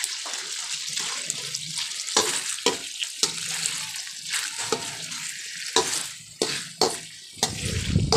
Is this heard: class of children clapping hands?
no